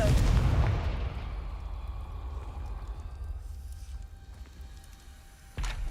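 A Confringo fire spell bursts in Hogwarts Legacy with a loud booming blast that rumbles and decays over a second, followed by quieter crackling game ambience and a sharp pop near the end.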